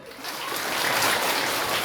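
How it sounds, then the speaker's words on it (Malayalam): An audience claps together in a dense, building roar of applause that swells and holds loud and close throughout. "ഒന്നുകൂടെ കൈയടിക്ക്."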